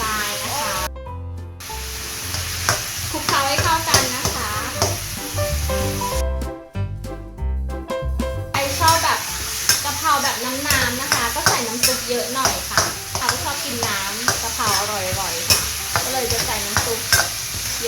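Minced pork with soy sauce, oyster sauce and sugar being stir-fried in a pan in a home kitchen, a steady sizzle with repeated scraping and stirring strokes under background music that runs throughout.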